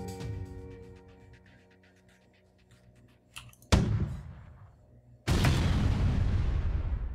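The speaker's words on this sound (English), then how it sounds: "I'm shooting their shield and then using the halberd beam." A halberd beam weapon in FTL: Faster Than Light fires with a sharp burst and then a second, heavier blast that sustains as a loud, roaring wash, following a quiet fading tone.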